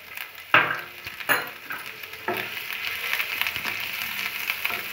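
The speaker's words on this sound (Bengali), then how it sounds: "এবার তেল দিচ্ছি আমি প্রায় তেলে, দিচ্ছি 1 টিস্পুন আদা কুচি" Chopped ginger sizzles in hot oil as a spoon stirs it for an egg tadka, giving a steady, close crackling fry broken by a few scraping knocks of the utensil against the pan.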